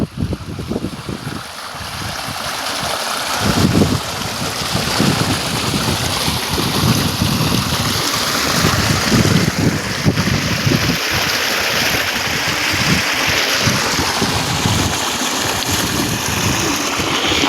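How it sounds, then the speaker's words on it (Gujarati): Irrigation water flowing through a farm channel at a field tank, a steady broadband rush of running water that is close and loud throughout, with gusty wind buffeting the microphone and no speech. "આવી રીતે કંઈક પાણી હાલે છે મિત્રો।"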